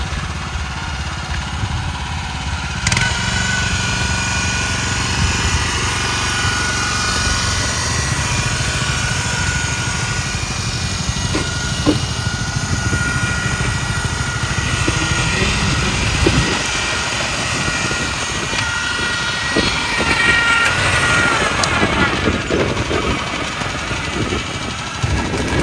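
Rice transplanter machine driving along a road, its small engine droning steadily and loudly with a rough, knocking rumble that persists throughout without pause.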